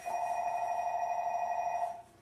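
A telephone bell rings steadily and fairly loudly for about two seconds, a sustained electronic trill that then cuts off, with no talking over it.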